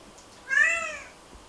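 A single short meow from a pet named Morgan, soft and fairly close, rising then falling over about half a second against quiet background.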